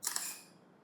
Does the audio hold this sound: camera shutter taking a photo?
yes